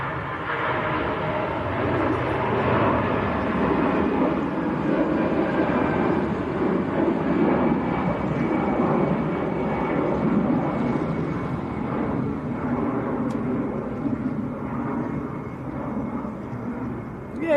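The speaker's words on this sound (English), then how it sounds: "Here comes another. This is another A320." An Airbus A320 airliner roars at Manchester Airport, a broad steady engine rumble that stays loud throughout over wind.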